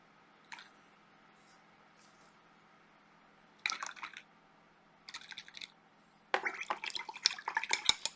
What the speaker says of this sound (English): just rinse the soap off with clean water